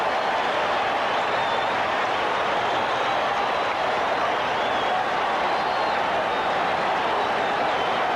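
A large baseball crowd at a 1978 World Series game in Los Angeles roars in a sustained, dense wall of cheering and applause that stays loud and even throughout.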